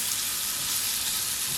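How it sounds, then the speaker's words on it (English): Fatty bacon sizzles and spits steadily in a pan, a continuous bright crackle at moderate, close volume with no voices. "Keep getting hit with bacon splatters"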